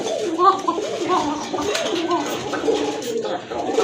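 Cooing of a Gobindo koka pigeon from a breeding pair, repeated soft calls close by with people talking over them.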